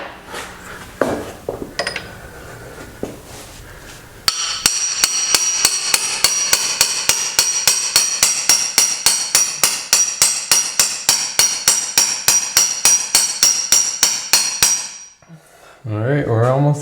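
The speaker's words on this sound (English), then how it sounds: "I'm just using a regular hammer" A small ordinary hammer strikes a tool packed with bread to push a bearing out, giving a long run of rapid, evenly spaced, ringing metallic blows. A voice comes briefly before and after the blows.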